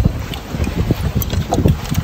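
Gusty wind buffets the microphone aboard a fishing boat out at sea, producing loud, rumbling low-pitched bursts and flutters in an uneven rhythm.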